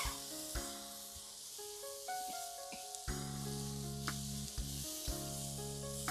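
Tapioca and onion fry in a pan with a soft, steady sizzle, with occasional scrapes and taps from stirring, while tonal background music plays over it throughout.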